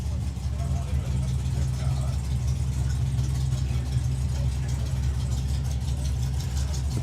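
A Copo Camaro and a Shotgun Mustang drag racing car sit idling at a drag strip, their deep, steady rumble filling the scene while a voice talks over it.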